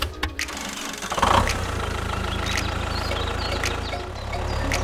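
A mini tractor engine turns over and catches, then settles into a steady low idle that runs on evenly, fairly quiet with a few faint clicks and knocks over it.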